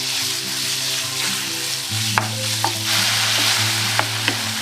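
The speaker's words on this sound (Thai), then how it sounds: "ใส่ลงไปเลย ผัดให้เข้ากันเลยนะคะ" Pork stir-frying in a pan with a steady close sizzle, punctuated by a few sharp scraping clacks of a spatula against the pan; no talking.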